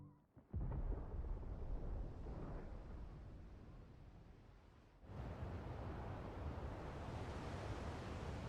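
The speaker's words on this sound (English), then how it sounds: "Sounds like thunder." Thunder in the Final Fantasy XVI video game, a distant deep rumble that swells suddenly, fades slowly, then rolls in again with another low, sustained boom, heard alone and fairly quiet.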